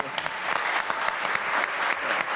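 A studio audience on a Pakistani talk show breaks into loud, dense applause, many hands clapping together with a few sharper individual claps standing out, sustained throughout without a pause.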